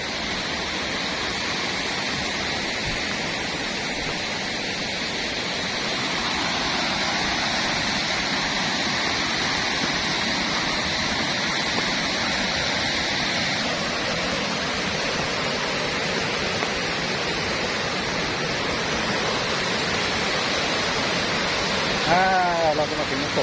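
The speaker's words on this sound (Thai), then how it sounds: "ก็ได้ยินเสียงดังมากเลยครับน้ำตก ยังดังมากครับน้ำตกตาดใหญ่" A loud waterfall, Tat Yai Waterfall in Phu Pha Man, Khon Kaen, Thailand, roars in a constant, dense rush of water that fills the whole scene without letting up.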